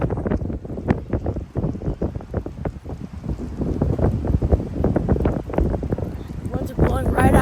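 Strong 40 mph wind gusts in Plano, Texas buffet the microphone with a loud, continuous roaring rumble, rising and falling in surges throughout.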